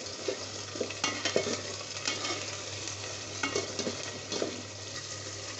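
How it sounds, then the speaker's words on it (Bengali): Ginger-garlic paste and garam masala paste with cumin sizzle steadily in a pan while being stirred, with scraping strokes and light utensil clatter over a constant low hum for the duration of the clip; no one speaks. "মশলাটা একটু নেড়ে নিচ্ছি ভালোভাবে।"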